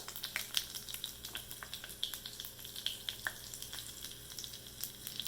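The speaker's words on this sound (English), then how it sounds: "I'm just going to add all the ingredients of the tadka, and we are going to allow it to splutter" Tadka spices spluttering in heated oil for rava idli: a soft sizzle broken by many sharp, irregular pops and crackles, close and without speech.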